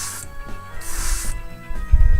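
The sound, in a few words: airbrush spraying Alclad II gloss black base paint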